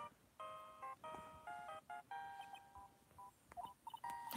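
A phone in Ace Attorney: Justice For All rings with a repeating pattern of short electronic tone bursts, fairly faint and steady over a few seconds.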